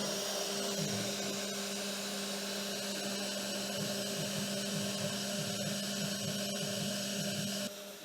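Steady, loud whine of a small CNC milling machine with a tiny end mill carving a leather stitch-pattern mold, a continuous motor tone with faint wavering cutting noise throughout, cutting off abruptly at the end.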